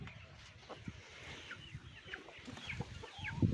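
Hens clucking softly while pecking apart ripening village tomatoes in a garden on a breezy day, with scattered short calls and rustling, fairly quiet and close.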